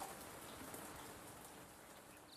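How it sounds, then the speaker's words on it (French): Rain falls in a soft, even patter, a faint and continuous hiss of drops with no other sounds. "il fait tout gris et Lily danse sous la pluie"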